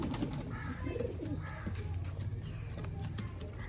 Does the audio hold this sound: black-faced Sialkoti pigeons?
yes